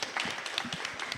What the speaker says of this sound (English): you should applaud for them